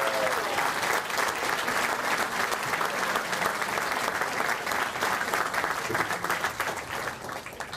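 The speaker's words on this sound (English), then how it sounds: "How about another round of applause for all of these inductees and teams?" A banquet hall crowd gives a sustained round of applause for sports hall of fame inductees and teams, dense clapping holding steady throughout before thinning slightly at the end.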